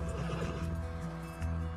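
A horse in the video game Red Dead Redemption 2 gives a short, faint neigh over soft hoof clip-clop.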